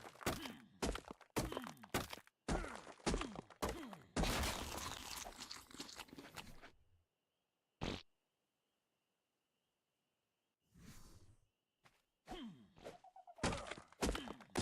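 Repeated hits on stone with a tool in ARK: Survival Evolved: a rapid series of sharp, loud crunching thunks in quick clusters, broken by a pause and a few isolated strikes.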